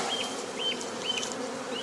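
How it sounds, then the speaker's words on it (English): A swarm of docile Italian honey bees being shaken out during hive work makes a continuous, fairly quiet buzzing drone, with individual bees whining past at intervals. "They're an Italian type of bee."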